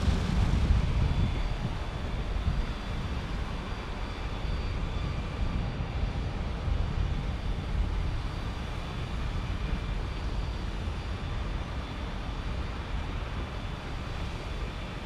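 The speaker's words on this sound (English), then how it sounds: "Here comes another Neo. It's an A321 from United Airlines." A United Airlines Airbus A321neo rolls past on the single runway at San Diego airport, its broad engine roar loudest at the start and then holding as a steady, rumbling wash for the whole stretch, with no talking.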